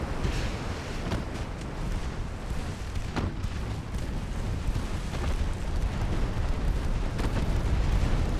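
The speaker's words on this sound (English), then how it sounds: "Torpedo hit?" A torpedo strikes a warship in Ultimate Admiral Dreadnoughts, setting off a sustained, roaring explosion with a dense, rumbling wash of noise and a few sharper cracks.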